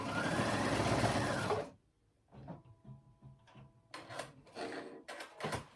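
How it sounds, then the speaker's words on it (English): Sewing machine running a zigzag stitch over a seam on a cardigan, a loud steady mechanical whir for under two seconds, then stops, followed by quieter handling clicks and rustles. "I do a zigzag stitch right over that seam."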